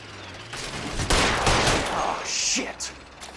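Rapid, overlapping gunfire in the video game L.A. Noire, a dense burst of shots dominating the middle with scattered cracks after, heard loud and close.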